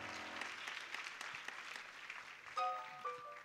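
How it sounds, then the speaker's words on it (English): A church congregation at an Easter weekend live service claps their hands in a soft, scattered wash, with a musical instrument holding tones beneath and a few brighter sustained notes rising near the end. "Clap your hands louder."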